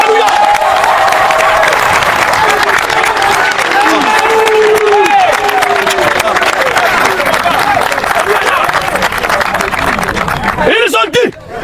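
A large religious crowd cheers and claps loudly and continuously, acclaiming the Lord Jesus Christ, with shouting voices rising over steady applause that fades near the end.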